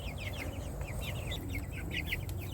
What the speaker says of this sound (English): the chickens are adapting to their new home very well